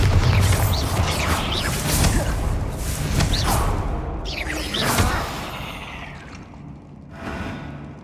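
Spell blasts in Hogwarts Legacy, Bombarda among them, land as a dense run of whooshing bursts and rumbling impacts, loud and close, with several broadband hits fading out toward the end.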